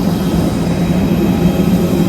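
Loud, steady low engine hum with a constant droning whine, like a large aircraft idling nearby, unbroken throughout.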